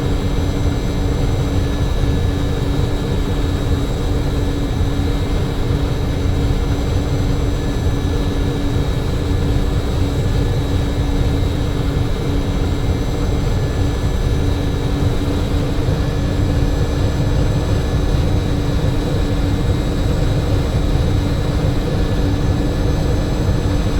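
Jet engines of an MD-80 climbing in the X-Plane 10 flight simulator make a loud, steady, unbroken roar with a deep rumbling base and a faint high whine, and no one speaks.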